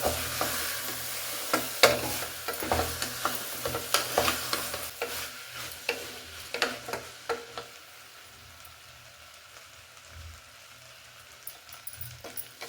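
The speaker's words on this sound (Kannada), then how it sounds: "ಈಗ ಚೆನ್ನಾಗಿ ಒಂದ್ಸಲ ಮಿಕ್ಸ್ ಮಾಡ್ಕೊಳ್ಳೋಣ ಅದನ್ನು" Vegetable pongal being stirred in a pan, a run of scraping, clattering spoon strokes over a soft sizzle, busy at first and then thinning out toward the end.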